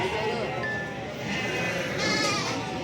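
Goats at a livestock market bleat repeatedly, mixed into a dense, steady crowd noise with people talking nearby.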